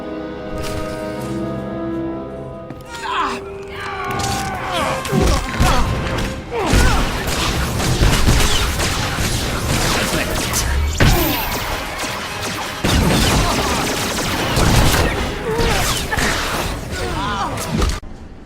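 Blaster gunfire and crashing impacts erupt in a bounty hunter video game battle on Alderaan. Loud bursts and thuds repeat irregularly after a brief quiet start, with voices heard amid the fighting.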